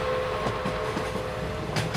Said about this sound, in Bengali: ট্রেন ছুটছে।